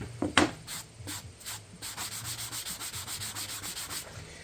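Sandpaper rubs rhythmically back and forth across burned wood in quick, even strokes, close up and fairly quiet, with no talking.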